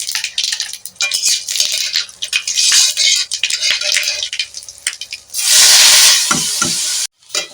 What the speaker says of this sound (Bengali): আর দিয়ে দেব দুটি শুকনো লঙ্কা আর দিয়ে দেব এতে জিরের ফোড়ন